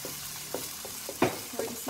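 Garlic frying and being stirred in a pan for kofta curry, a soft steady sizzle broken by several scraping stir clicks, close and moderately quiet with no talking.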